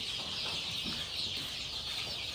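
Young gamefowl chicks at a game farm, soft continuous peeping and clucking over a busy hiss of background noise, moderately near with no clear individual calls standing out.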